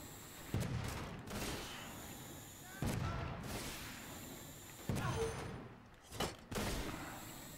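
Artillery barrage in the Toy Soldiers Complete video game: several heavy booming blasts land a couple of seconds apart, each decaying into rumble, with crackling gunfire between them.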